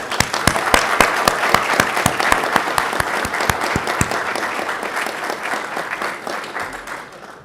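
A crowd at a university diploma ceremony claps steadily for several seconds, dense and fairly loud, with a few sharp individual claps standing out before it gradually thins.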